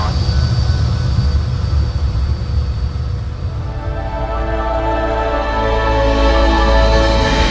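Jet engines of a Just Flight Fokker F28 in British Midland colours roar steadily during a flight-simulator takeoff, a loud continuous rumble with a rising whine, no voices.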